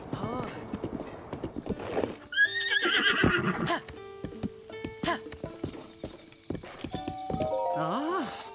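A horse whinnies loudly amid hoofbeats clip-clopping in Zelda: Breath of the Wild, with someone speaking briefly before; the neigh repeats later with scattered game-like tones.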